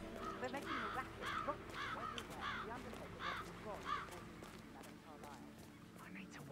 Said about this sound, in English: It's the birds. They're making a racket.